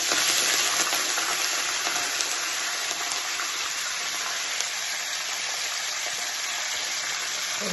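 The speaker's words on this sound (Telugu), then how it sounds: "ఇప్పుడు వేగినాయి కదా, కరివేపాకు వేసుకున్నాను." Garlic, dried red chillies and curry leaves frying in hot oil, giving a steady, dense, close sizzle with a bright hissing crackle that holds evenly throughout, with no voices.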